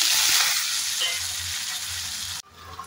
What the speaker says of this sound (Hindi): आलू को मैं थोड़ा सा भून लूँगी, जिससे कि थोड़े से हल्के से सुनहरे हो जाए